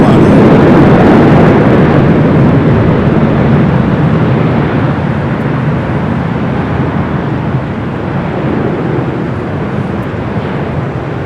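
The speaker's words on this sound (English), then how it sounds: "Virgin Atlantic Flight 141, the 787-9 Dreamliner." A Virgin Atlantic Boeing 787-9 Dreamliner arriving at Los Angeles International Airport, a loud, broad jet roar that holds steady and eases slightly as it passes.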